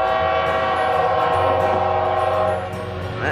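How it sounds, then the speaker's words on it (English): A city train rolls past nearby with a loud, sustained horn blast over the rumble of the cars, and the sound eases off toward the end. "It's the city train that comes through here once a week or more."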